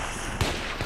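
A single sharp gunshot from the player's weapon in the video game Battlefield 3, one brief crack standing out from a low, steady background.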